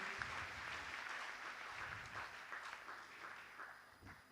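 A church congregation applauds during a sermon, a steady, fairly faint wash of clapping that holds through the whole stretch with no voice on top.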